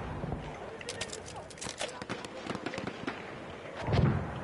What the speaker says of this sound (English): Yeah, they're shooting all rockets.